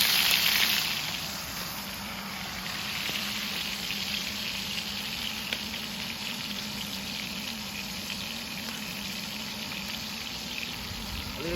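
Butter sizzling in a pan for cooking steak outdoors in the woods, a steady broadband hiss that holds at an even level with no talk.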